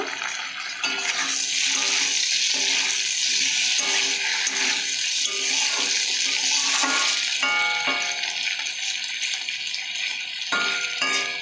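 Sliced onions fry in a pan for a bitter Malabar spinach dish, giving a close, continuous sizzle and crackle with periodic scraping of a spatula as they are stirred, steady throughout with no voices.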